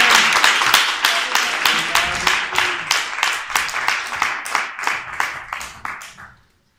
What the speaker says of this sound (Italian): accogliamo con un grande applauso